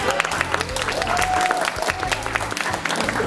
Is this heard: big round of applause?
yes